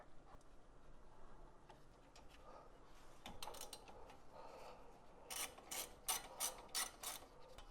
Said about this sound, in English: I'm going to keep loosening this 14 with this breaker bar.